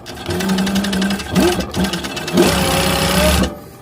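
Industrial piping sewing machine stitching fabric in rapid, steady bursts, pausing briefly twice between runs before stopping, loud and close with no talking.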